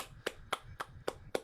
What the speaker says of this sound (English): Let's give a round of applause, everyone.